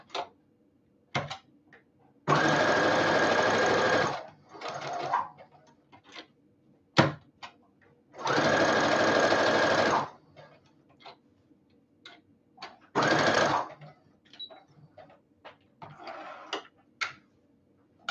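A sewing machine runs in three separate bursts of about two seconds each, stitching a dress seam with a steady mechanical whir, while sparse clicks and handling taps fill the quiet gaps.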